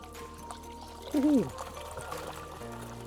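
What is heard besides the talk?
water flowing from an Aerator LP60 into a pond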